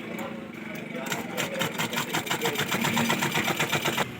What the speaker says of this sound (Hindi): मैं जैसे सिलाई मशीन को चलाता हूँ तो ये सुई तोड़ देती